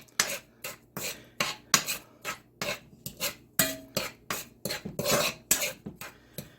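Metal spoon stirring brown sugar into oil in a pot, with rapid, regular scraping clinks against the pot's sides and bottom, roughly two strokes per second, close and crisp with no talk.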